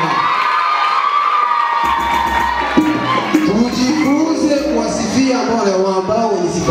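A lively crowd at a festival gathering cheers and shouts loudly, voices whooping and overlapping close by, with a voice carrying over the din.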